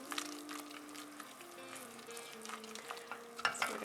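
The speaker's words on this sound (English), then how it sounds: "there's a slight boil here and it's foaming up" Gluten-free mac and cheese sauce bubbles at a slight boil and foams up in the pan, a quiet, steady sizzle with soft crackles and pops throughout.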